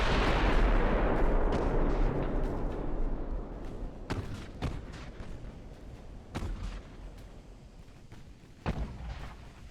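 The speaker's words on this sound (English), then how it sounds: "I'm going to go ahead and turn back a little bit so we can get that last turret firing." Battleship turret guns firing in the naval warfare game Ultimate Admiral: Dreadnoughts, a heavy opening roar decaying away, then several sharp booming shots at irregular intervals, loud and alone.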